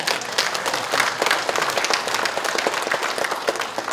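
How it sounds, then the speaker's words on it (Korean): A crowd at a candidate's campaign speech in Chungbuk gives loud, sustained applause, a thick continuous wash of many clapping hands with no talk over it. "박수 안 치십니까?"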